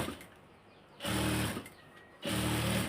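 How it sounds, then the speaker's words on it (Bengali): A sewing machine stitches a dress neckline in two loud, even runs of about half a second each, separated by a quieter pause with faint handling noise. "মিডিল পয়েন্ট এখানে ঠিক এভাবে মিলিয়ে এক পাশ থেকে সেলাই করব"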